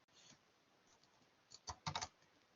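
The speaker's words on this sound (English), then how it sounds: "So I'm very cautious in typing here." Quiet computer keyboard typing during SQL work: a few sparse keystrokes, then a quick cluster of close clicks, heard alone.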